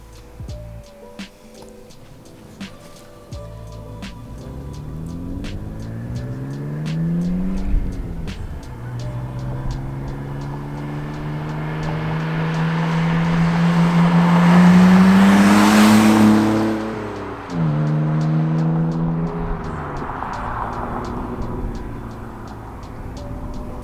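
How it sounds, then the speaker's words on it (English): A BMW E46 with a 3-inch muffler-delete exhaust revs and accelerates hard, its loud raspy engine note climbing through repeated pitch sweeps, dropping at gear changes and peaking in a roaring high-rev pull before easing off. "Car really does sound awesome compared to how it did."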